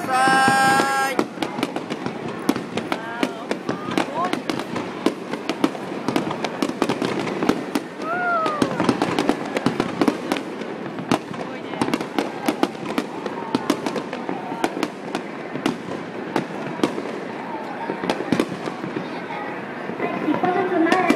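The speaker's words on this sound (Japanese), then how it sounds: "もう少し前に進むと両方の花火がきれいに見ることができます。" Fireworks at the Sumida River fireworks festival in Tokyo, with dense continuous bursts and crackling booms heard from a crowded viewing area as a voice makes announcements over a loudspeaker.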